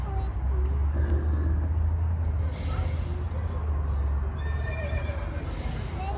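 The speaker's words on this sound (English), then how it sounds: "Sounds like a horse." An animatronic horse-zebra hybrid in an Ice Age exhibit whinnies several times in high, wavering calls over a loud, constant low rumble and busy background chatter.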